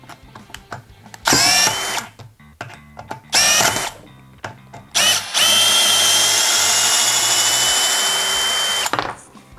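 A STARK CD 18-2 B cordless drill driver whirs loudly close by in a few short bursts, then runs continuously for several seconds before stopping, with clicks between runs.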